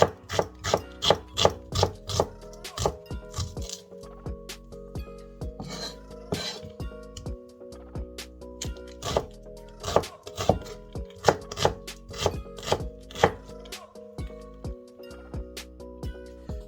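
A knife slices through naga chillies and onions on a cutting board in a home kitchen, with rapid rhythmic chops in bursts, close and crisp, and a short pause partway through.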